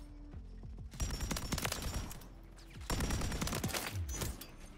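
A Pulemyot light machine gun fired in Modern Warfare 3, two rapid bursts of loud, close automatic shots, each lasting about a second, with mechanical clicks between them.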